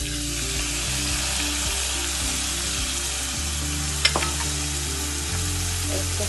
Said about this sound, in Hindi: इसको हल्का सा सॉटे करेंगे गार्लिक के साथ।